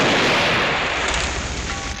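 Gunfire in a frontier fight with a cannon nearby, heard as a loud, dense burst of blasts and rumbling reverberation that fades slowly over two seconds, with no voices.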